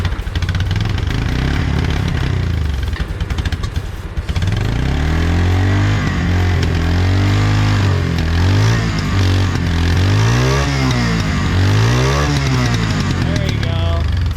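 An old boneyard three-wheeler engine runs loud and close, sputtering roughly at first, then idling with repeated revs that rise and fall for most of the stretch.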